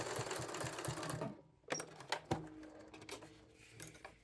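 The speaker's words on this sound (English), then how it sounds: "So here's what that triple stitch top stitching looks like." A sewing machine running a triple top stitch in contrasting thread on knit trouser fabric: a fast mechanical chatter that stops briefly, then resumes in quick bursts.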